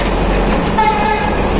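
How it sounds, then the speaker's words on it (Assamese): A long train passes close by with a loud, heavy rumble, and a sustained horn tone sounds partway through the brief moment. "এইটো লাম্বা ট্ৰেইন যাই আছে নহয়"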